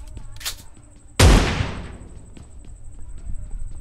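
A single loud close gunshot or blast in BGMI cracks and rings out with a fading tail, followed by quieter game ambience and faint clicks.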